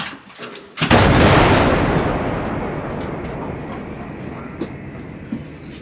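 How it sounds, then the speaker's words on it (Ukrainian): A single massive blast from a towed 2P22 Bohdana-BG howitzer erupts close by, its deep boom rolling and echoing away over several seconds, with faint clicks before it. "Армата! Постріл!"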